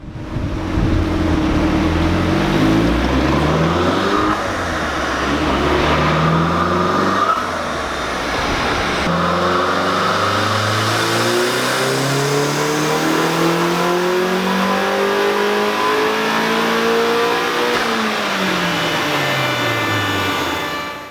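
A turbocharged Mazda Miata engine on a dyno with a bigger turbo, revving hard through repeated climbing pulls that rise and drop in pitch, loud, close and sustained throughout with no talking.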